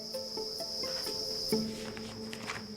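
Crickets chirp in a steady high trill with a few nearby chirps standing out, alongside faint low tones in an otherwise quiet space, at a cricket-rearing facility.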